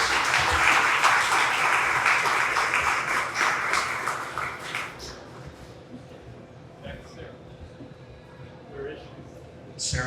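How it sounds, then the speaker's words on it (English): An audience at a county fair opening ceremony claps loudly for about five seconds. The applause then thins out and dies away into quieter background murmur. "Let's give them another round of applause."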